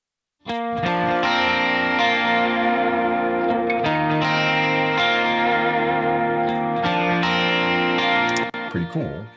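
Two guitars playing a similar part together, both processed through the Strymon Deco tape saturation plugin, give a full, saturated, sustained layered tone with faint echo. They play loud and steady, with no voices, until a brief trailing stop near the end.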